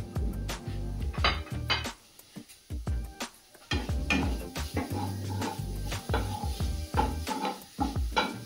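Bengali kacha golla sweet mixture stirred in a metal wok over a low gas flame, with repeated scraping clatters of the utensil against the pan in an uneven rhythm and brief pauses, close and fairly loud.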